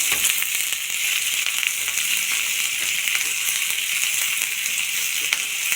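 Chopped shallots sizzle and fry steadily in hot oil for barley soup, a dense, continuous crackle close by with occasional stirring clicks and no talk.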